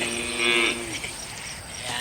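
A cow moos once in a field, a close, drawn-out low call in the first second, followed by quieter outdoor ambience with no talking.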